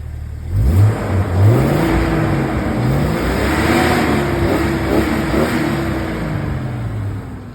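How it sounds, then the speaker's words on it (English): A Jeep Cherokee engine runs close by, its revs rising and falling in a mid-pitched rumble with a steady whir underneath. "listen to the motor"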